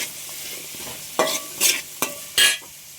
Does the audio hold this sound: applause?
no